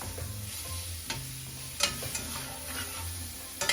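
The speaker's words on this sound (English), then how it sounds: "you just fry those up to as long as you want" Black beans and bella mushrooms frying in a pan, a steady close sizzle broken by scraping stirs and a few sharper clinks, with a low hum running beneath.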